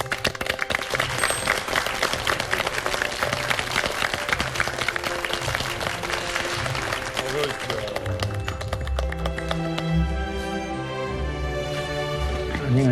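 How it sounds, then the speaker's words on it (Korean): A Korean TV talk-show studio audience breaks into dense, sustained applause to welcome guests, and music swells in toward the end. "여러분 박수로 맞이해 주십시오."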